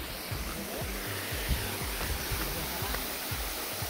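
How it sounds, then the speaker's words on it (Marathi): The Sidhagad waterfall pours down in a steady, broadband roar as clear water falls at the start of the rainy season. The rushing noise is heard up close and stays continuous, with faint low thumps beneath it. "वरती धबधबा तुम्ही पाहू शकता."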